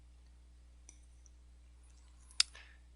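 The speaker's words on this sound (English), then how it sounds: "click on this button" A single sharp mouse click on a web page button, quiet and close, with a faint tick just before it against near-silent room hum.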